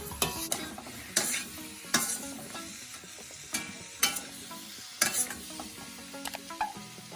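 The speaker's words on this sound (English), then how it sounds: "I'll add in my cauliflower and broccoli and stir everything together" Cauliflower and broccoli are stirred through a beef sauce in a hot pan, a steady sizzle broken by repeated scraping strokes of the spoon about once a second, close and fairly loud.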